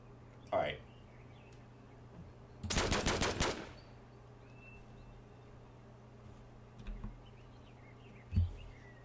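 Gunfire aimed at the player in a shooting video game, a single close burst of rapid machine-gun shots in the middle, with a few fainter scattered sounds around it.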